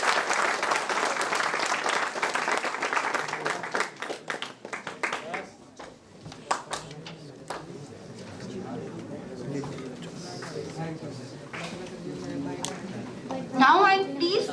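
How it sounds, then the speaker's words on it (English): An audience at an entrepreneurship and innovation workshop claps steadily for about five seconds, then the applause fades and a voice speaks over the room. "Give a big hand of applause, my dear."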